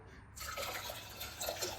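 Water pours steadily into a metal pressure cooker of lentils, a continuous splashing gush starting after a brief quiet moment, close and fairly loud.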